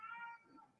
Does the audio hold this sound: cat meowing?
yes